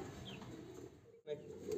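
A black Danish fancy pigeon hen gives a soft, faint coo against quiet background noise, with a short break near the end.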